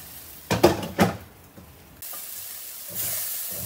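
Tomato and mixed vegetables frying in a pan for a couscous salad, a spoon scraping and clanking against the pan twice, then a soft steady sizzle that swells slightly toward the end.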